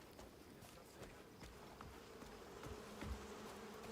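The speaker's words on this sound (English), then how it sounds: "we could hear the bees" Buzzing bees in a video game village, a steady faint drone with soft footstep-like taps and a slightly louder bump near the end, no talking.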